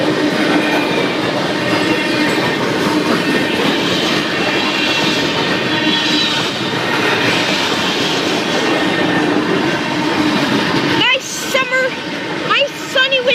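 A Canadian Pacific coal train rolls past a railroad crossing on a sunny winter day, its steady loud rumble and clattering wheels filling the scene, with a voice talking over it until the train noise drops away near the end.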